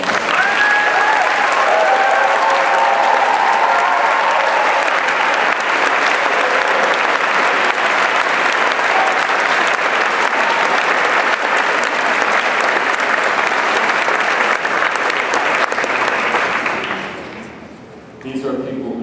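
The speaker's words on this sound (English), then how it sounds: "Let's give a big round of applause." Audience applause for visiting choir conductors standing at an arts event, a dense, steady wash of clapping from a large crowd that carries on for most of the stretch, then thins out and fades near the end.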